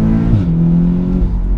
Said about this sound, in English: then you use the launch control